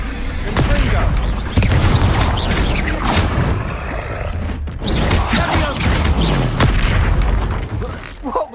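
Confringo spell explosions in Hogwarts Legacy boom repeatedly over loud game combat, with bursts and roars in quick succession amid a dense, continuous din.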